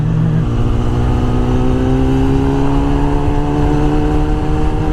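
A motorbike engine running on the throttle, a close, loud, steady drone whose pitch climbs gradually, then holds with a constant buzzing hum.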